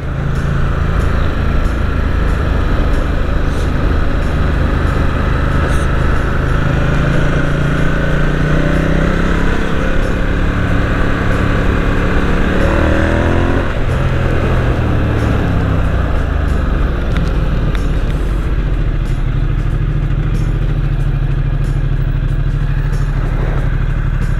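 A Ducati XDiavel motorcycle engine runs loudly up close while riding in the city, its pitch climbing as it revs, then dropping and settling back to a steady drone.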